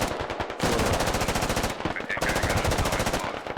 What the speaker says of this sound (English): There's a lot of fire that they're taking.